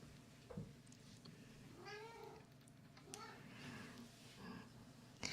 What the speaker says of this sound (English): I think my cat is getting bored.